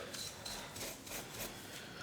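A cheap Harbor Freight wire pad scrubbing painted metal on an old motorcycle engine, quiet rhythmic rasping strokes repeating about every third of a second, close by.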